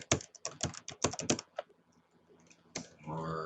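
Someone types a URL into an online advertising account form on a computer keyboard, giving a quick burst of close, crisp key clicks that then trails off into quiet, followed by a faint voice.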